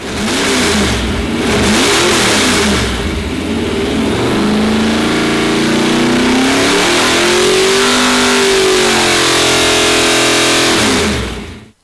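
A 1966 Beaumont's engine, built with a 3-inch stroke 283 crank in a 400 block, revs loud and close with rising and falling pitch sweeps over a steady rumble, running continuously for about twelve seconds.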